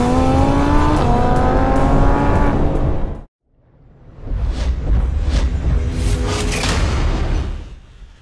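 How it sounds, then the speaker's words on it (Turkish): A BMW 420 G22 4 Series Coupe engine revs hard and climbs in pitch during an 80-120 km/h acceleration, cuts out briefly during a gear change, then pulls strongly again before easing off. "80-120 hızlanmaya bakalım."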